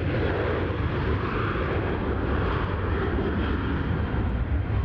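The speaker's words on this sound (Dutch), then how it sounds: "je ziet iedere dag vliegtuigen overkomen" An airplane flying over near Eindhoven Airport gives a steady, loud, broad engine roar that holds without a break, with no voices heard.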